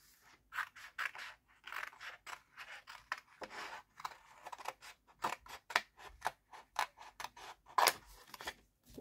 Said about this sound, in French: Allez, je vais couper là, comme ça je vais couper une fleur aussi.